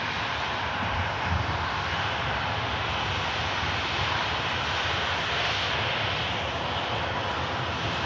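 An ATR turboprop airliner entering the runway at Manchester Airport, with a steady, dense engine drone that stays even and moderately close for the whole stretch, no talking.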